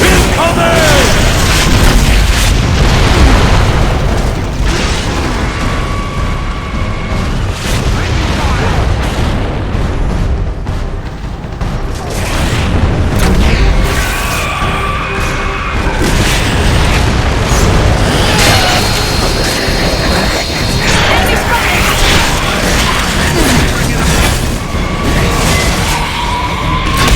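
Mortar explosions in the video game Gears of War: Judgment: dense, loud booming blasts and bursts roll on continuously amid gunfire and battle noise, with voices shouting throughout.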